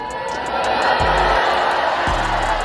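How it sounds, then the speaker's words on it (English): A large crowd booing loudly in a continuous wash of jeering voices, with a couple of low thuds underneath. "They end up booing."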